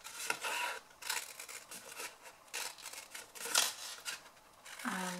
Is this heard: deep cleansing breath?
no